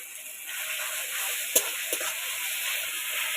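Gentle sizzling and hissing of garlic frying in a pan with onions and tomatoes, with a couple of soft clinks from stirring and no speech.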